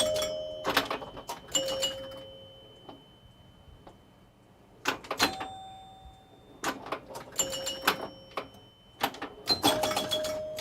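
Bells ring on a Vulcan pinball machine, sharp and tuned, in quick irregular bursts. Clicks and mechanical ticks from play fill the gaps, moderately near and with no talking.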